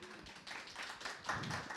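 Audience applause at the São Paulo book fair (Bienal) for an award-winning novel, a dense, steady patter of many hands clapping that swells slightly toward the end.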